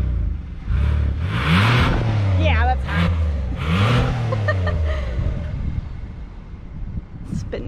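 A 2021 Kia Telluride's engine is revved up and released about twice up close, with a rising roar and exhaust rumble before it settles back toward idle, while people talk nearby.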